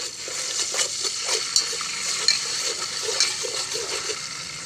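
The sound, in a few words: frying ginger garlic paste in oil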